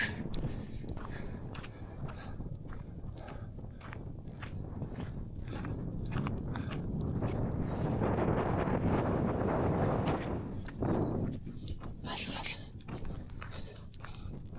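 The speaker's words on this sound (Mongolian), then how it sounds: "салхи ямар гоё нэ" Wind on a mountain trail in the Altai during an ultra trail run makes steady, rough buffeting and rushing noise against the microphone, swelling in the middle and continuing throughout.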